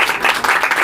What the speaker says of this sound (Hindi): उसके प्यार के लिए ज़ोरदार तालियां बजाएं